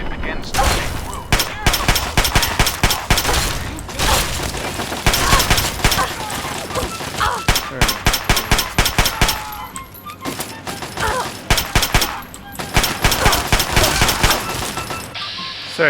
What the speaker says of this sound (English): Sorry, Case, stop shooting me.